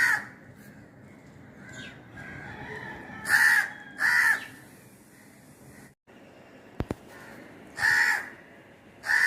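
Crow caws near a nest where a crow chick is growing up, in loud harsh bursts at intervals, with a quieter background of softer calls and a brief sharp click midway.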